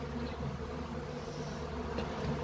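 Bees in a Kenyan-style top-bar hive make a dense, continuous buzz, close up and steady throughout, with no speech.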